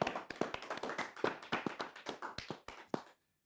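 A small group of people clapping their hands at a casual interview with a multitalented singer, a few seconds of uneven, sharp claps, moderately quiet and close, stopping abruptly.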